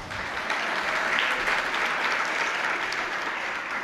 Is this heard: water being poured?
no